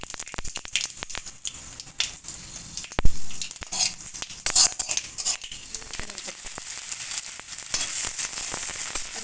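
Panch phoron spices hitting hot oil in a wok, then vegetables going in: loud spitting crackles and sharp pops at first, settling into a denser, steady sizzle with stirring near the end.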